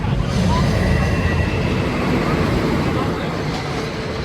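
A wooden roller coaster train, the Wicker Man at Alton Towers, rumbles past in a steady, loud roar on its opening day, with broad rattling track noise filling the whole stretch and fading slightly toward the end.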